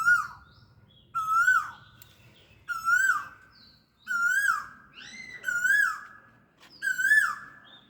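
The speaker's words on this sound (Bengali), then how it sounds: "কেমন সুন্দর কোয়েল ডাকছে," A koel calls six times in a row, each a clear, rising whistled note repeated at a steady pace, close and loud against a quiet background with no voices.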